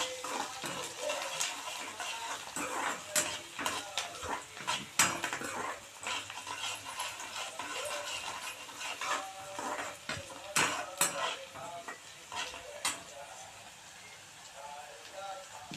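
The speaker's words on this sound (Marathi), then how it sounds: "आपण आता याच्यात हिरवी मिरची ॲड करून घेऊया तीही चांगली परतून घेऊ" Onion and green chili stirred and sautéed in a pan for egg bhurji, with a steady sizzle, repeated clinks and scrapes of a spoon against metal, and a voice talking over parts of it.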